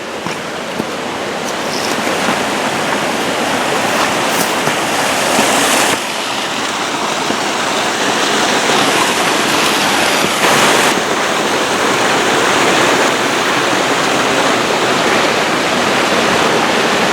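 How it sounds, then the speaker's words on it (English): A mountain waterfall in the San Bernardino Mountains roars loud and steady, a dense unbroken rush of falling water throughout with no voices. "I bet there's a waterfall right here"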